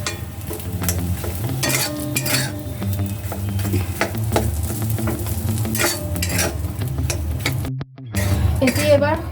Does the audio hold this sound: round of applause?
no